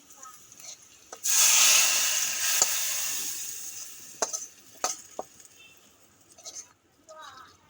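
Onions fried red are tipped from the pan into a large cooking pot, producing a loud sizzling burst that fades into scraping and stirring, with a few sharp clanks of utensils on metal.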